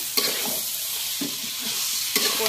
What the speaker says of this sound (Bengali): আমরা আদা বাটা দিয়ে দিলাম। এবার খুব সুন্দর করে নাড়ছি আমরা